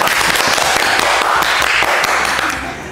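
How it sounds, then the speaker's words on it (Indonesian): A group applauds during an Indonesian podcast about internships, brisk close clapping filling the whole stretch and tapering slightly at the end. "Tepuk tangan, tepuk tangan."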